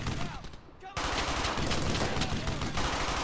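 An MG-42 machine gun fires in Brothers in Arms: Hell's Highway, loud dense rapid bursts of gunfire erupting after a brief lull and continuing without pause, amid battlefield noise.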